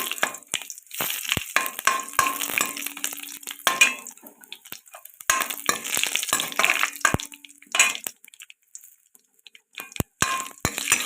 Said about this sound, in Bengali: আর দিয়ে দেব পাঁচফোড়ন ভাজার জন্য একটু অপেক্ষা করবো